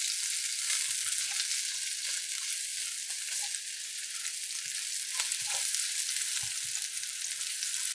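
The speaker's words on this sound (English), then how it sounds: "Now we're gonna fry that up a bit." Onions fry in hot oil in a pan, giving a steady, bright sizzle throughout with a few faint stirring knocks underneath and no voices.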